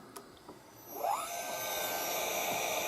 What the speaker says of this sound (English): let's see if we can turn the spindle on